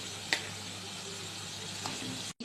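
Chicken pieces go into a pan of frying onions, ginger-garlic-chilli paste and whole spices for chicken kasha. A steady, close hiss of sizzling fat is broken by a couple of small clinks.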